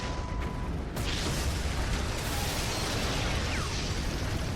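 Rocket fire and explosions from the Prototype video game form a loud, continuous rumbling barrage of blasts and booms, with a brief sharp crack early on and no talking over it.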